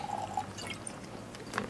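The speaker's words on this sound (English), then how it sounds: "So I'm gonna pour myself a little bit of my Macallan 12, one of my favorite whiskies out there," Macallan 12 sherry-cask Scotch whisky being poured into a glass, a soft, close trickle of liquid with faint drips and light glass contact, quiet and alone.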